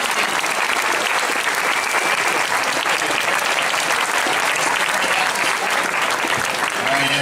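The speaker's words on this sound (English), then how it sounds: "big round of applause for Lance" A convention crowd at a celebrity panel, Wizard World Sacramento 2014, claps loudly and continuously, a thick unbroken roar of hands with scattered voices underneath.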